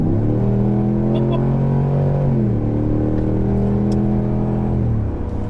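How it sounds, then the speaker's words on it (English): A Cadillac Escalade's 6.2-liter V8 with the optional performance exhaust accelerates hard, a loud, deep, steady engine drone that rises in pitch through a gear change and keeps climbing, heard from inside the cabin. "This is the optional performance exhaust on this Escalade, so it's even louder than a standard Escalade, but dang, does it sound good."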